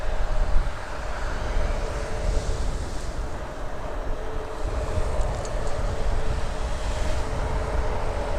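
Broad, steady roar of an Embraer 175 airliner at Toronto Pearson Airport, heard from a distance with wind rumble over the microphone, continuous and moderately loud throughout.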